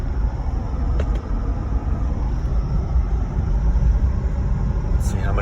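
A 2010 Jeep Grand Cherokee Limited with the 5.7 HEMI V8 drives along a road, a steady low engine and road rumble holding close and loud throughout, with a faint tick partway through.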